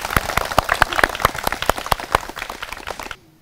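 A crowd at an Onam celebration claps for the teacher, a dense run of hand claps lasting about three seconds before stopping abruptly.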